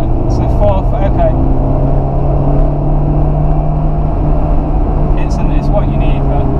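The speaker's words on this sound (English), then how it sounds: "I do like to test the torque open road for a bit." A stock JDM Honda S2000 AP1 pulls along an open road, its engine droning steadily with sustained road noise inside the cabin, loud and close, while someone talks over it.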